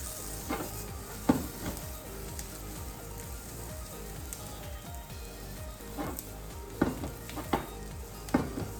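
Onion and green onion sizzle steadily in a hot pan for yakisoba, with occasional scraping and clacking of a utensil stirring the contents; no voices.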